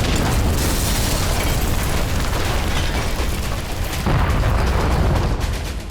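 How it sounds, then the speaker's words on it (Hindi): Artillery shelling in Sumy, a continuous loud, heavy roar of blasts and rumbling booms that fills the whole stretch with little let-up. "सूमी में ताबड़तोड़ गोलाबारी हो रही है।"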